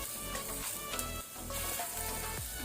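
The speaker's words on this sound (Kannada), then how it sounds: "ಈಗ ಅದನ್ನು ಮೀಡಿಯಂ ಫ್ಲೇಮಲ್ಲಿ ನಾವು ಒಳ್ಳೆ ರೀತಿ ಫ್ರೈ ಮಾಡ್ಕೊಳ್ಳೋ ಮೊದಲಿಗೆ" Onions frying on a medium flame for pepper chicken soup: a steady, close, dense sizzle and crackle throughout, with no talking over it.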